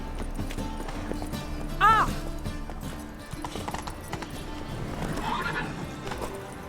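In the video game The Witcher 3, a horse gives one loud whinny near the start as hooves clip-clop into a gallop, with game voices speaking around it.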